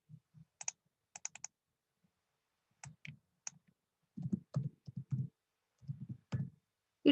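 Sharp computer mouse clicks on a desktop, a few quick single and double clicks early on, then a run of faint soft tapping and clicks, close and otherwise quiet.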